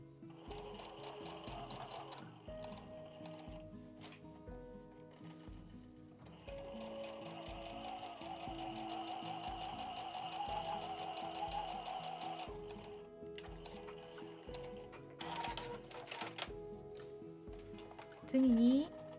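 Close-up sewing machine stitching fabric seams for a shoulder bag, a steady mechanical whir with short pauses and restarts, then a brief louder sound near the end.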